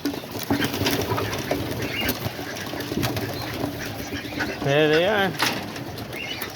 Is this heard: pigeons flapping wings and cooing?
yes